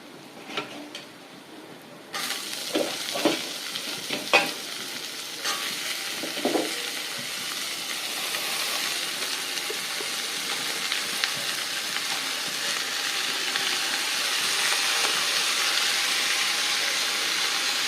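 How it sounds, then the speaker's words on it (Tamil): Capsicum and onion sautéed together in a pan for a South Indian curry. A few spatula taps and scrapes lead into a steady, close frying sizzle that grows fuller and continues evenly to the end, with no talking. "இதை எடுத்து வெங்காயத்தோடு போட்டு நல்லா வதக்க போகிறோம்."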